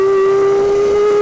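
A Turismo Carretera Camaro race car screaming at very high RPM during a race, a loud sustained steady engine whine held close and alone.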